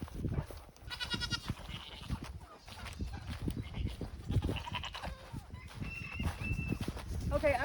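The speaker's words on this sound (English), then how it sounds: "Oh yeah, I caught the goat." A goat bleats amid scuffling and handling noises on a farm as it is caught and held, with people talking throughout and a dog nearby.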